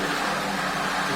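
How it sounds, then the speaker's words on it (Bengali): An electric water pump, just switched on, running with a steady even hum that holds at a constant level for about a second. "পাম্প অন হয়ে গেছে,"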